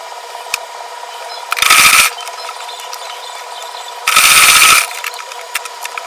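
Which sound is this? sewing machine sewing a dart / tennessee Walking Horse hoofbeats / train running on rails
sewing machine sewing a dart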